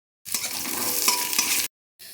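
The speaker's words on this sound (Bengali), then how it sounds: "তেল গরম হয়ে গেছে, দিয়ে দিচ্ছি 5-6 কোয়া রসুন থেতো করে।" Crushed garlic cloves and chopped onion hit hot mustard oil, giving a loud, close, continuous sizzle with light stirring that cuts off abruptly and then briefly resumes.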